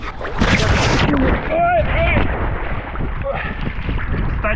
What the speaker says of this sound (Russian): ветрище, конечно, капитальный